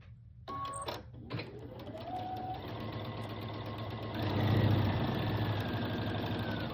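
A sewing machine stitching quilt pieces along a 1/4 inch seam, starting with a few clunks, then running in a steady close whirring hum that grows louder toward the end.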